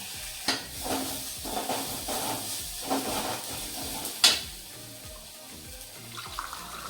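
Water pours and splashes into a hot pan for cooking Maggi noodles, with hissing and sizzling, a few clatters along the way and one sharp metallic clink.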